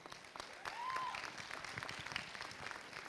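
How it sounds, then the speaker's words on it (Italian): An audience at a charity stage show applauds in tribute, a soft, distant wash of clapping that carries steadily with a few voices mixed in. "volevo fare solo un applauso a chi non c'è più, a Salvatore"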